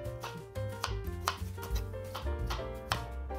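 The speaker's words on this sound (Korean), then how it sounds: "반달로 썰어볼까요?" A knife chops steadily on a cutting board, slicing a tomato into half-moons, a run of crisp irregular cuts at close range with no one talking.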